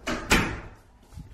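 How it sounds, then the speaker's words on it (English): A door is pushed shut with a single solid thump after a brief rustle, followed by a fading tail and faint room noise. "I close the door."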